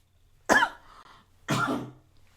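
A news anchor coughs twice on air, two short sharp close coughs about a second apart in an otherwise quiet studio.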